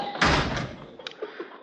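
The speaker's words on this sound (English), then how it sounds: "got to shove that door hard." A sticking door is shoved hard, giving a loud thump and scrape followed by a few lighter knocks and rattles, close by and alone.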